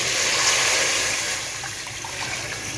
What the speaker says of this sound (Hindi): 3 ग्लास मैंने इसमें पानी शामिल कर दिया है